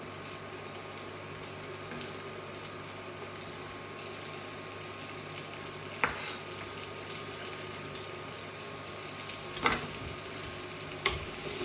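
Bell peppers frying in a pan for a Barcelona-style cod dish, a steady even hiss broken by a few sharp clicks or taps, with no talk.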